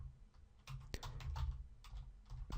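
Quick bursts of typing on a computer keyboard, soft close-up key clicks in an irregular rhythm with brief pauses between words, alone and fairly quiet.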